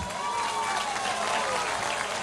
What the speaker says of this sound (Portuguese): palmas para o presidente Lula aqui